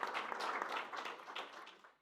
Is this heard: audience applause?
yes